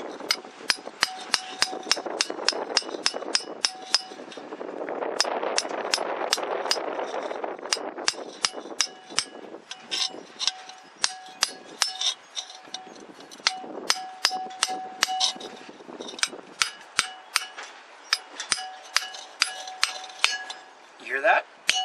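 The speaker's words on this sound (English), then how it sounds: "I'm hitting the hub. Now I'm hitting the hub, hitting the seal. You can hear the difference." A hammer taps a grease seal into an axle hub: a long run of sharp, ringing metallic strikes, some spaced and some in quick bursts, with someone talking over parts of it.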